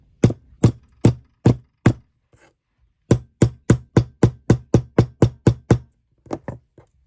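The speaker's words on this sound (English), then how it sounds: "your texture hammer, excuse the noise." Sharp, close metallic hammer taps in quick series, a run of five, a short pause, then a longer burst of about ten strikes and a few softer ones.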